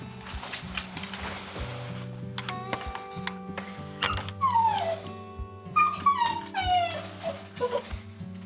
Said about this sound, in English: And you can hear the dog. He's not happy. He wants to come out and run around.